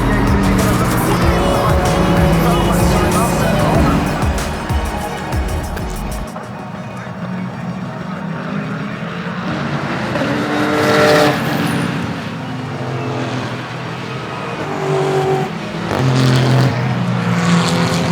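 GT race cars roar around Brands Hatch, engines loud and close at first, then fading and passing again at a distance with rising and falling revs.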